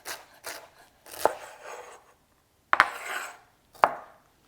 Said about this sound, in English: Stack them together, fingers tucked in, and chop